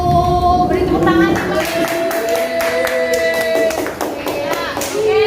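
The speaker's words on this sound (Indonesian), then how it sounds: "Beri tepuk tangan." A classroom of children claps for group 1 after a compost project presentation, brief rhythmic clapping mixed with loud kids' chatter and a teacher's voice over it.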